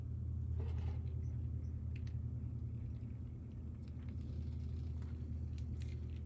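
Low steady gear rumble from a Phoenix Portal RC crawler running a Fusion Pro motor, a continuous droning whir with faint ticks on top and no talking.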